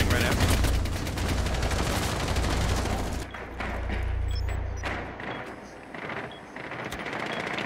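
Gunfire in a Rainbow Six Siege match on the Border map, an enemy Frost shooting at the player: loud, close rapid bursts for the first three seconds, then scattered sharper shots and thuds over a low rumble.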